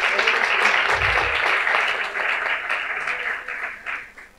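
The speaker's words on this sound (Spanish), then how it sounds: "un aplauso para estos cuatro proyectos" An audience applauds after micro-presentations of four projects at the CONECTA 2023 event, with a dense, steady burst of clapping that thins and becomes more ragged over about four seconds.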